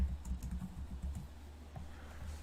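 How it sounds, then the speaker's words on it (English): Fingers typing on a computer keyboard, giving a quick, quiet run of close key clicks that thins out toward the end. "Well, I'm typing it in."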